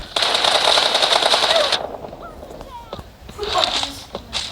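Rapid automatic gunfire from a video game rattles loudly in a sustained burst for nearly two seconds, then gives way to quieter game effects and a second fainter flurry of shots, with a voice faintly underneath.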